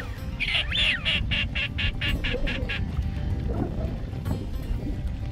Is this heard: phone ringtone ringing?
no